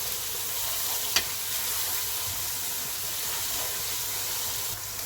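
Tomatoes and garlic cooking in a curry pan, giving a loud, steady, hissing sizzle close by, with a single clack of a stir near the start and no voices.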